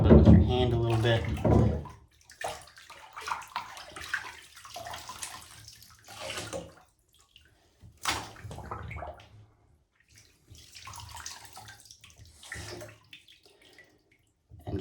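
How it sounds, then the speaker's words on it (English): A Hawkins .50 caliber black powder muzzleloader barrel is rubbed by hand in hot water, giving soft intermittent sloshing and splashing close by, with someone talking over much of it. "Just gonna scrub it with your hand a little bit."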